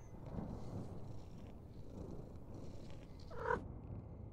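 A cat purrs steadily in a video game as it is petted, a soft continuous rumble heard close and alone, with a brief louder bump near the end.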